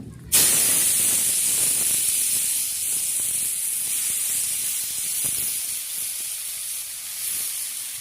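Potatoes with cumin and chilli drop into hot oil with a sudden loud sizzle that settles into a steady, close hiss and crackle, holding on without talk.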